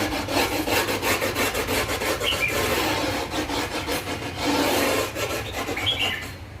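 Grip tape on a surfskate deck being scraped along its edge with a tool to mark the cut line, repeated close rasping strokes in a steady back-and-forth rhythm, no voices.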